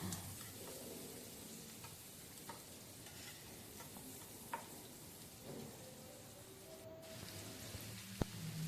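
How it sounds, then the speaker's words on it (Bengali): Three medium chopped onions sizzle and fry in a pan for egg tadka, a steady soft crackle with occasional spoon scrapes and taps as they are stirred, quiet and close. "এবার এটাকে একটু ভালো করে নাড়াচাড়া করে নেব।"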